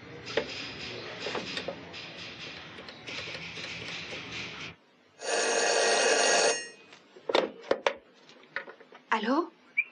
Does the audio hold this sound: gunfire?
no